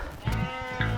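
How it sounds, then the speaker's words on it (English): Two close, wavering sheep bleats sound on a farm in the Welsh countryside, one near the start and another near the end, with faint outdoor background between. "So you can probably hear some sheep in the background."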